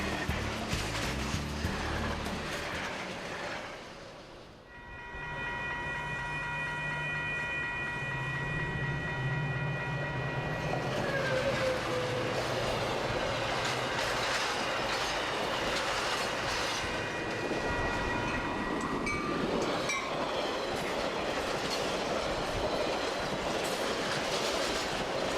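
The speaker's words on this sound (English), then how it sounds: "the most impressive trains on the route are the fleet of Metra commuter trains that come in" Metra commuter trains pass in Chicago, a loud, sustained rumble of rail cars with clickety-clack wheel rhythm, a brief dip, then a steady close roar with ringing tonal squeal.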